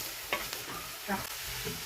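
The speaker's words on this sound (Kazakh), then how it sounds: "Енді капустамызды саламыз. Араластырамыз." Shredded cabbage frying with onions in a pan as it gets stirred, a steady hiss broken by a few scraping and clinking utensil strokes.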